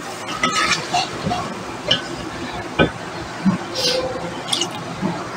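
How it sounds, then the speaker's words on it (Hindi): Water is poured into a pot of tender cooked meat for badami qorma in a home kitchen, giving soft splashes, drips and wet squishing with a few light clinks, close up and fairly clear. "अब हमने इसमें थोड़ा सा पानी पहले ऐड कर दें।"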